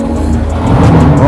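McLaren race car at Spa-Francorchamps during a Brûleurs de gommes event, a loud sustained engine roar rising slightly as it passes close by.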